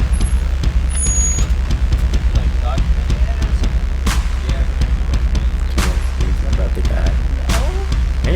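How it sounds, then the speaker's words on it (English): A large UPS delivery truck idles with a deep, constant engine drone while sharp bursts of air brakes hiss and clanks sound nearby. "the glorious brown UPS truck arrives with Christmas presents"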